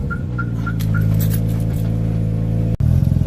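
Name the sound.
car engine revving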